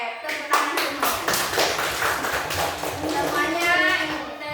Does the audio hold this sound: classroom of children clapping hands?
yes